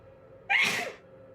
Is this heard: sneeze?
yes